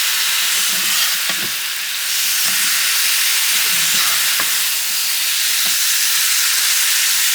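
Apples frying in a pan for an apple baby, a steady bright sizzle with soft scrapes and stirring knocks from a spatula breaking through every second or so, close and continuous.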